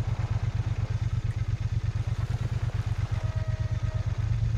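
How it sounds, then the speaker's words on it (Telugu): A motorcycle engine idles in the video game Farming Simulator 22, a steady rapid low putter running evenly and close throughout with no speech. "బైక్ ఇక్కడ పార్క్ చేసేస్తాను నేను"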